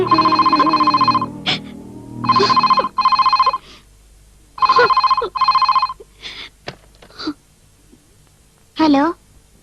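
A telephone rings in a Telugu film scene with three bursts of bright, rapid electronic trilling, each separated by short pauses. Voices and other sounds follow after the ringing stops.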